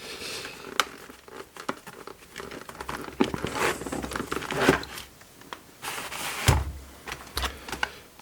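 Packaging of a Märklin model locomotive being unwrapped, with crinkling plastic, rustling cardboard and soft handling knocks in quick irregular bursts, close and fairly quiet, no talking.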